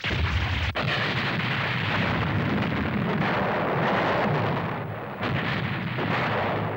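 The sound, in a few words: cannon firing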